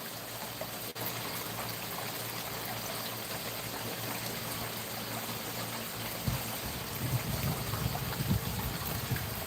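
Water driven by a single garden pond pump pours steadily into a small backyard creek, a continuous even rushing flow at moderate level that barely changes throughout, with a faint low rumble rising near the end.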